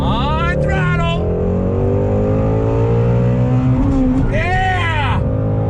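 A 2018 Ford Shelby GT350 V8 accelerating on throttle around a track, its engine note loud and steady throughout with rising and falling revs, close up from inside the car.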